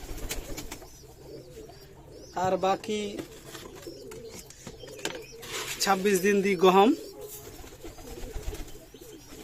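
Pigeons coo in a coop at a pigeon farm, two bursts of throaty, warbling calls close by, with someone talking through most of it.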